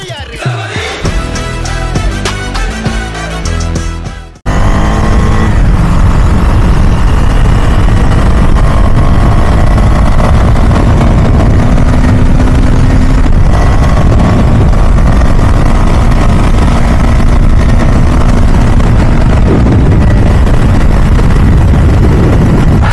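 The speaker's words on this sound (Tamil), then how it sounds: "ஸோ இந்த பைக் வந்து ஹஸ்க்வர்னா விட்பிலின் 250" A Husqvarna Vitpilen 250 motorcycle roars along, its engine loud and close with a constant wind-buffeted drone that holds for about twenty seconds after a brief stretch of music at the start.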